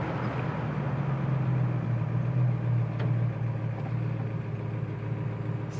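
A 1936 Ford Sedan Delivery slowing from about 40 mph under braking, with a steady engine and road drone heard from inside the car that eases slightly as it decelerates, continuous with no talking.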